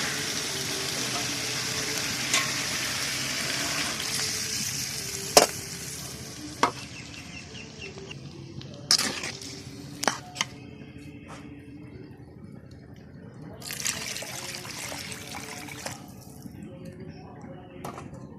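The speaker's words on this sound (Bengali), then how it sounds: "তরকারি কষানো হয়ে গেছে। এখন আমি দিয়ে দেব পরিমাণ মতো পানি।" Water is poured into a pan of vegetarian potato curry that was frying, raising a steady hiss and sizzle with scattered sharp clicks of utensils, then a louder bubbling surge late on. No one speaks.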